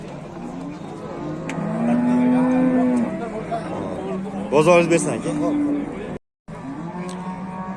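A black-pied Russian dairy cow, two months pregnant, gives a long, loud, close moo, followed by a shorter one, while people talk nearby at a livestock sale.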